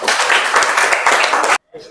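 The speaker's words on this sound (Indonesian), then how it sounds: "Berikan tepuk tangan." A classroom of students claps loudly and briskly, the applause mixed with voices, then stops abruptly with a short quiet gap before a faint trailing sound.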